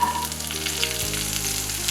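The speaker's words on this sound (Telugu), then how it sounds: "ఇప్పుడు చీమ చింతకాయలు తీసుకొని ఆయిల్లో ఫ్రై చేసుకుంటాం." Manila tamarind pods fry in hot oil on low heat for an Andhra pickle, giving a continuous soft sizzle and crackle with faint stirring, no voices.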